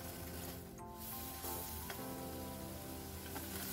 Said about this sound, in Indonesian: Sekarang kita aduk-aduk, kita masak sampai bumbunya benar-benar mateng.